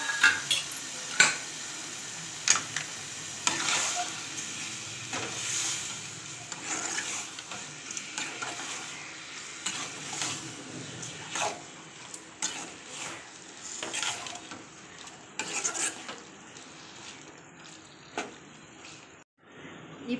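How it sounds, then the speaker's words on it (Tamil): Chicken sautéing with a packet of chicken masala in a pan for biryani, low frying sizzle with irregular spoon scrapes and clinks against the pan over about twenty seconds. "இப்போ கறியை போட்டு கொஞ்சம் வதக்கிக்கலாம்."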